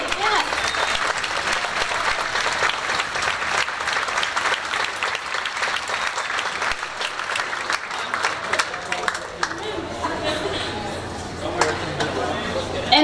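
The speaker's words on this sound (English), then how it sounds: "Give them a round of applause for their bravery" Loud, sustained applause fills a high school auditorium at an orchestra concert, dense clapping with scattered sharper claps, and crowd chatter and talking mixed in underneath as it gradually thins toward the end.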